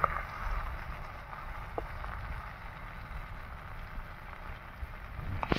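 Chicken pieces for a dhaba-style fry hiss and crackle in a pan, turned to cook the second side, making a steady, fairly quiet sizzle with no pauses.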